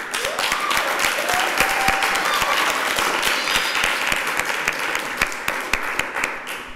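A French TV quiz show studio audience breaks into sustained, loud applause, dense clapping holding steady throughout.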